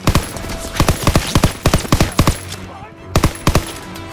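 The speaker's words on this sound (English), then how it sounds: "MG in the hayloft." A machine gun fires from a hayloft in the World War II shooter Call of Duty: WWII, loud close bursts of rapid shots broken by short pauses over a noisy battlefield.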